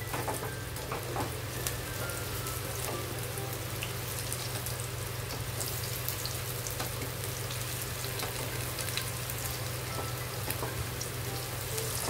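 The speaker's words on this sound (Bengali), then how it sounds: "এটা ভালোভাবে আমি ফ্রাই করব" Steady, crackling sizzle of onion fritters deep frying in hot oil, continuous and even throughout with no voices.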